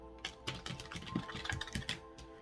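Quick, crisp riffling bursts of tarot cards being shuffled, several rapid flicks in a row, close and fairly loud with no voices.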